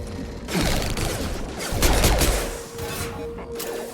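Battle gunfire in the video game Mass Effect 2, dense bursts of rapid shots and impacts rising and falling across the whole stretch, loud and close with no talk over it.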